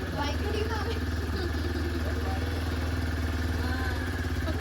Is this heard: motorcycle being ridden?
yes